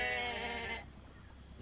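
Goats bleat in the video game Jurassic Park: Operation Genesis, a single clear, quavering call ringing out for under a second before fading into quiet background ambience.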